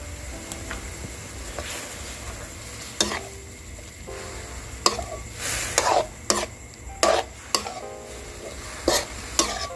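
Snakehead fish belly stir-fried in a pan with red-stem holy basil, chilies, pepper and long pepper: a steady sizzle runs throughout, punctuated by sharp clacks and scrapes of a spatula against the pan that grow more frequent toward the end, with no talking.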